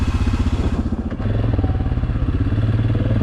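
ATV engine running steadily while climbing a big hilly trail, a loud, close mechanical drone with clattering and a brief dip before the revving picks back up.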